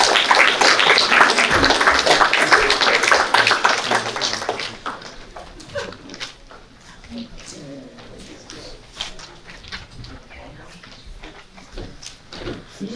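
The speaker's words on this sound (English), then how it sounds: "let's have a round of applause for our town board president" An audience at a League of Women Voters candidate forum in Niskayuna applauds the town board president, with full, steady clapping for several seconds that then thins into lighter, sparser claps.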